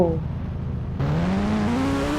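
A motorbike engine in the Indian Bikes Driving 3D video game revs up with a rising whine that climbs in pitch after a brief drop, loud and close.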